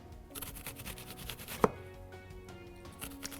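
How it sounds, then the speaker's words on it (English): Red onion sliced with a sharp knife: a soft, quiet run of cuts with one sharp knock against the board partway through, and no voices. "So I'm going to slice some nice red onion up in here."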